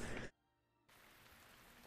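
Rain falling on a terrace in the video game Deadly Premonition. A faint, steady hiss cuts out abruptly, goes quiet for a moment, then resumes as a soft, continuous patter.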